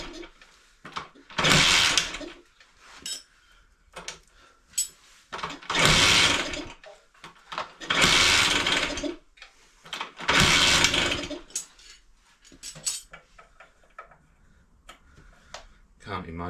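A Honda MT5 moped engine being coaxed to start, with four loud bursts of revving that each last about a second and die away, and quieter ticking and sputtering between them.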